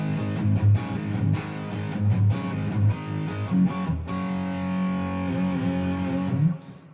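Firefly FFMN electric guitar on its neck pickup, strummed chords ringing with a warm, slightly distorted tone, several sharp strums then a sustained chord that cuts off near the end, no voices.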